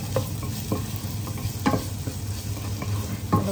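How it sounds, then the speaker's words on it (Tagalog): Garlic and onion fry and sizzle in a pan for beef saluna, with a steady close hiss broken by several distinct scraping stirs of a utensil against the pan. "Haluin lang natin, hintayin natin na mag-brown siya."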